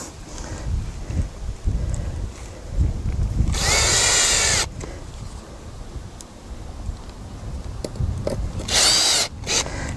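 A power drill whirs in two short loud bursts, driving screws to fix a half-inch conduit bracket to the wooden side of a raised bed, with handling noise and quieter pauses between.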